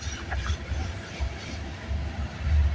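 A CN/CP freight train rolls past in Milton, Ontario with a low, steady rumble and faint rail clatter, heard at moderate distance with no talking.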